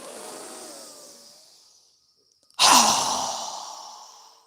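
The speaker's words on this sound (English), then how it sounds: "exhale with a strong breath as we lower our arms down with our mouth open wide" A strong open-mouthed exhale during yoga breathing practice, a loud rushing breath that starts abruptly after a short pause and fades gradually, preceded by a softer breath.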